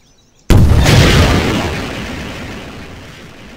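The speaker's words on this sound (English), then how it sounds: "Grenade blast!" A single loud grenade blast erupts in a video game after a short quiet moment, a sharp boom with a long rumbling tail that fades over several seconds.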